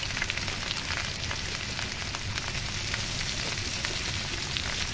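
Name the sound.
frying pumpkin and mango with black cumin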